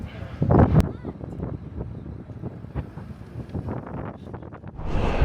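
Strong wind in Ecuador's volcanic highlands buffeting the microphone in loud gusts, roaring throughout, with a person talking under it.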